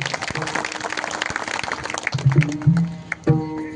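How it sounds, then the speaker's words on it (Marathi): Audience at a village kirtan in Solegaon claps in a dense, steady patter of hands, with low tonal music notes from the stage and a louder burst of applause near the end. "सर्वांनी एकदा जोरदार टाळ्या वाजवा"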